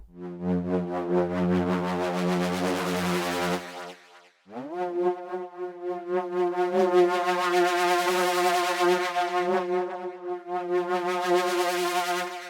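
Atmosphere Crusher, a synth atmosphere preset for the Diva synthesizer, plays a rich sustained chord pad, then breaks off briefly before a second long swelling chord rises and holds bright and steady to the end.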